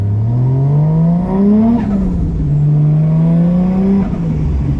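Big-turbo Toyota Chaser with a V160 gearbox pulls hard. Its engine note climbs steadily in pitch, drops at two quick upshifts, then climbs again, loud and close throughout.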